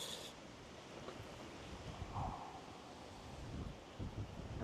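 Steady wind buffeting the microphone at a lakeside whip-fishing spot, a continuous broad rushing roar with slight gusts, no voices.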